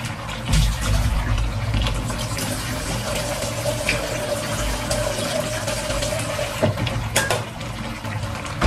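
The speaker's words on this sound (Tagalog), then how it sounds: "Dadagdagan ko po yung sabaw niya." Water poured as broth into a cooking pot of a Filipino fiesta dish, a steady rushing pour lasting several seconds, loud and close with constant liquid splashing.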